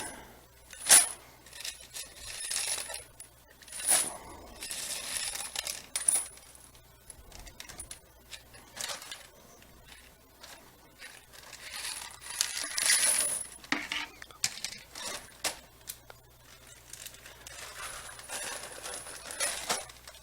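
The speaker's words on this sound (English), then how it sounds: "And then I'm going to get my drywall screws" Drywall screws are handled and dropped, giving sharp metallic clinks and jingles scattered across the stretch, some loud and close, with quieter rattling between.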